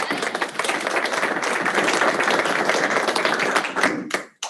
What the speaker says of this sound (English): Give him a round of applause first